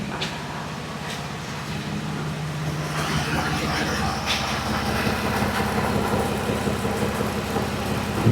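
A 2013 Ram 1500 4x4 with the 3.6-litre engine idles steadily after being shifted into drive, a close, even mid-pitched rumble that grows slightly rougher partway through.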